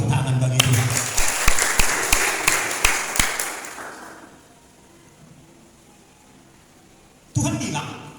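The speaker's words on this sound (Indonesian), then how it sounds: "Tepuk tangan bagi Tuhan" A church congregation claps hands together in a burst of rhythmic applause, sharp claps ringing out for a few seconds before fading into a quiet room, then a voice returns.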